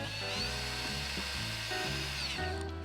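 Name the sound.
power drill drilling holes in a cheap rear wing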